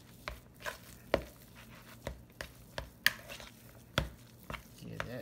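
Mashed potatoes being worked into ground garfish by hand, a quiet scene broken by irregular sharp knocks and taps of a utensil against a bowl, roughly one every half second, with faint wet mixing sounds between.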